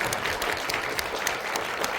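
Steady applause fills an award ceremony hall for internet journalism prizes, a dense wash of many hands clapping at once with a few sharper individual claps standing out, continuous throughout and with no voices.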